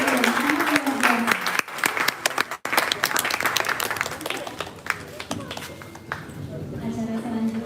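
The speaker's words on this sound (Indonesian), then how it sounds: "Berikan lagi tepuk tangan yang meriah kepada keempat penampilan yang sangat luar biasa." Audience at a dance performance evening applauds four dance pieces with sustained, dense clapping from a crowd, with voices and some tonal sound at the start and end of the clapping.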